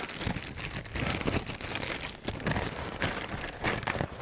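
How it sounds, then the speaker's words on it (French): Crinkly tearing and crackling bursts, like tape being pulled off packaging, repeated in short close-up pulls with no talking. "Désolé pour le bruit, il y a du scotch."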